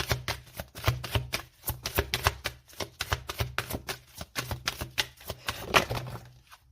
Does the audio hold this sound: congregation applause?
no